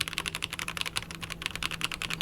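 Brisk typing on a Keychron C3 Pro mechanical keyboard with brown switches, rapid muted key clacks in an uneven rhythm, close and moderately quiet with a low hum underneath.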